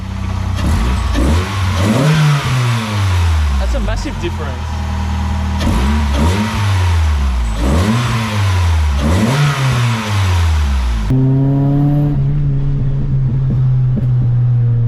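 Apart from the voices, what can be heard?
SSS Pulsar engine revving with pod intake filter induction sound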